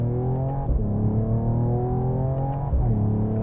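A 2021 Mercedes-AMG E53 sports sedan accelerates in sport mode, its engine note climbing steadily in pitch, dropping briefly at a shift and then rising again, heard loud and close from inside.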